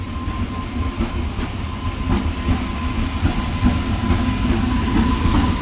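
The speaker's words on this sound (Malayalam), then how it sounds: "ഉച്ചയ്ക്ക് എറണാകുളത്ത് നിന്ന് പുറപ്പെട്ട എറണാകുളം പാലക്കാട് മെമു. ലേറ്റാണ് വണ്ടി." The Ernakulam–Palakkad MEMU train runs through Lakkidi station with a steady, close rumble and rhythmic wheel clatter over the rails throughout, and no voices.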